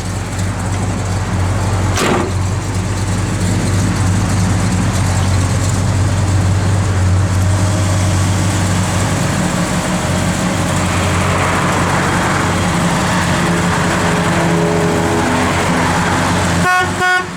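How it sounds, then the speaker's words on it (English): A big-block V8 in a 1970 Chevrolet Chevelle SS idles steadily and loudly up close, a deep continuous rumble filling the whole stretch, with a brief sharp tap near the start. "Big block sounds good."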